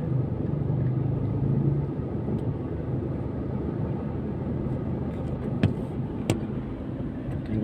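Heavy road traffic on EDSA near Guadalupe Bridge over the Pasig River heard from inside a vehicle, a steady low rumble of engines and tyres with a couple of faint sharp clicks, with no voices.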